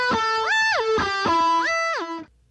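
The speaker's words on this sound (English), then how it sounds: "like whammy bar up," A bass line through a pitch-shift pedal (PS6) with the whammy set upward, notes bending smoothly up and back down in two swooping, distorted rises, loud and alone.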